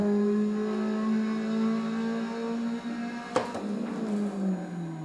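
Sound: car engine revving in a racing video game

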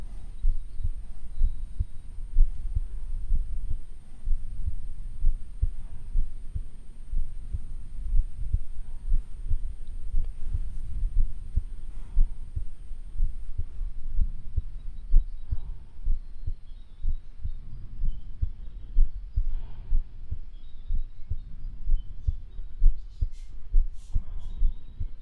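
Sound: recorded heartbeat of a deer

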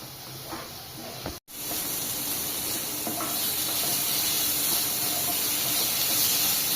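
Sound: chicken khichuri frying covered in a pot

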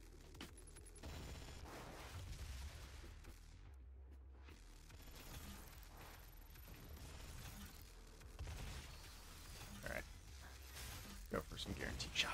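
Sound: gunshots in video game Doom

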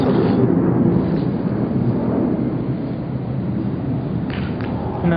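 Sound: shelling explosions during bombardment in Douma

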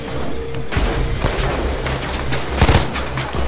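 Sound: akimbo pistols firing in video game Payday 2

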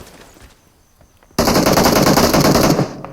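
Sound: gunfire in video game PUBG Mobile

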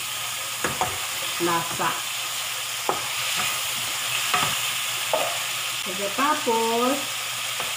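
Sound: stir-frying ingredients in a pan

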